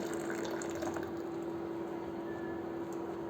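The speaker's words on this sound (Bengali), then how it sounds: "ঢেলে দিলাম দুধটা।" Milk flavored with cardamom pods is poured into a pot, a steady liquid gurgle over a constant background hum.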